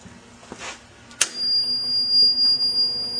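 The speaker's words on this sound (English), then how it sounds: "Continuous beep." A single high electronic tone starts abruptly and holds steady without a break, a continuous beep from a nearby Ethos 1600 laboratory microwave digestion unit over a faint low hum.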